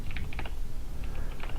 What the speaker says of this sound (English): Now you can watch the commands I'm typing in chat